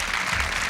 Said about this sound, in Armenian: շնորհակալ եմ այս ծափերի համար